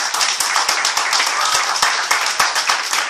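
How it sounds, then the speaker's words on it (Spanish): Church congregation clapping hands together in a steady, fast rhythm, close and lively, with a faint voice under the claps. "Una ofrenda de palmas al Señor."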